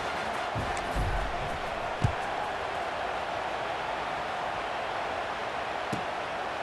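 Simulated stadium crowd noise from the EA Sports College Football 26 video game, a steady, moderately loud crowd murmur with a few brief thumps and no clear cheering peaks.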